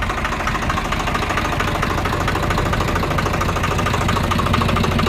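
A tractor engine idles steadily and fairly close, with a low, knocking, even rumble that holds throughout with no talk over it.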